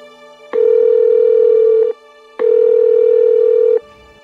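A video call rings out as it connects: two long, steady electronic ring tones about 1.4 seconds each, separated by a short pause, loud and clear with no voices.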